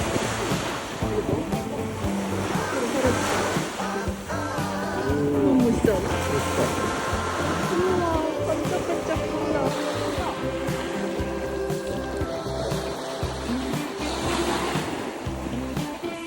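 Ocean waves roll and break on the East Sea shore in a steady wash, with wind buffeting the microphone and a couple chatting and reacting over the surf throughout.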